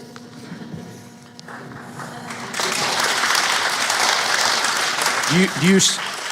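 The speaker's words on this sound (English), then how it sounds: "did you hear the applause in this room?" Applause breaks out in a congressional hearing room, a sudden burst of many hands clapping that swells in and continues steadily, with a voice heard briefly near the end.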